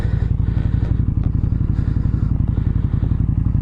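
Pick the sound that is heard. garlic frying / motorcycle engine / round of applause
motorcycle engine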